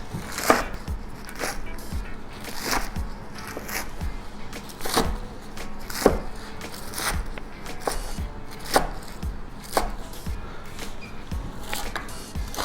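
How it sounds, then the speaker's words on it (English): Spinach leaves are roughly chopped with a knife on a board, a series of crisp thuds at an uneven, moderate pace over a soft background, close by and without speech. "And then you roughly chop all the spinach leaves"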